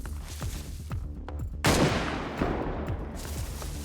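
Gunfire in the video game DayZ rings out as rapid shots, first as a series of sharp cracks and then as a louder, denser burst with echoing tails, with no talking over it.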